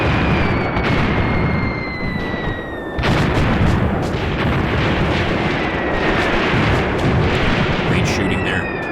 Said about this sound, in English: Look at those outgoing mortars, guys.